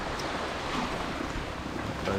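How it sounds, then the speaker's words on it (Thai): Steady wind buffeting the microphone at a seashore on Ko Chang, Thailand, with waves washing in beneath as a continuous broadband rush, fairly loud and unbroken. "ลมมาจากทิศตะวันออก แต่คลื่นเดิงมาจากทิศตะวันตกครับ"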